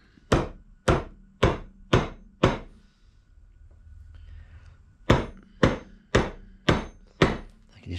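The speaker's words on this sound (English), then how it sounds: "what I intend doing is just folding those nails over, crushing them first with a big hammer." A big hammer striking nails into an old railway sleeper to crush and bend them over, two sets of five loud sharp blows in steady rhythm with a short pause between.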